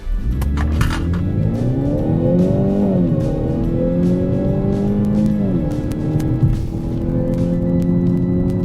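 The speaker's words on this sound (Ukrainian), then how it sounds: "режим спорт, газ в пол" A 2015 Ford Fusion AWD accelerating flat out in sport mode, its engine droning loud and close as pitch climbs steadily through gears with short drops at each upshift.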